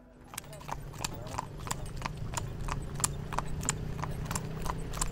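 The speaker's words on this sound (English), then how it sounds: "I meet my driver, Hassan, and his faithful steed, King." Horse-drawn carriage hooves clip-clopping steadily through the streets of Edfu, Egypt, a regular rhythmic clatter of shod hooves on pavement close by, with a low rumble of wheels and street noise underneath.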